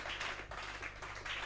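A church congregation claps and applauds in praise during a worship service, a dense, steady wash of many hands at close range with slight swells across the short burst.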